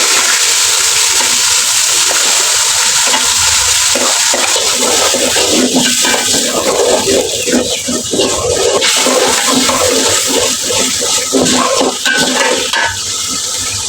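Whole bay leaves, cardamom, cinnamon, cloves and peppercorns fry with onion paste in hot oil for chicken pulao, producing a loud, dense, steady sizzle and crackle close up, with some stirring clatter underneath.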